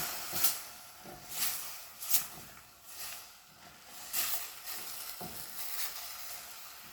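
Apple pie filling with spice rub being stirred in a hot pan, gentle sizzling with intermittent scraping strokes, close but fairly quiet, no one speaking.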